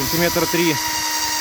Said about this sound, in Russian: Так, сейчас мы просверлим.